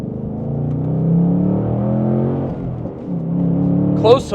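A Ford Mustang Dark Horse with a 6-speed manual drives on a cold road, its engine a steady close-up drone heard from inside the cabin, with a brief rising rev near the end.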